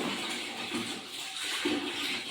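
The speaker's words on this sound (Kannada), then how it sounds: "ಇವಾಗ ಇನ್ನೊಂದು ಸ್ವಲ್ಪ ನೀರು ಹಾಕ್ಕೊಳ್ಳೋಣ." Water pours steadily into a washing machine drum, a continuous rushing splash that stays fairly even and close for the whole stretch.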